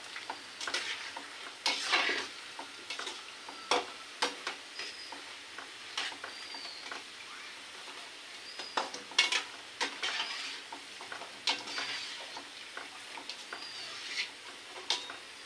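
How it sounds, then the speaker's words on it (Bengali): Chips frying in hot oil give a steady, close sizzling hiss broken by sharp crackles and pops throughout, with no talking. "হয়ে গেছে চিপসগুলো ভাজা, এবার তুলব।"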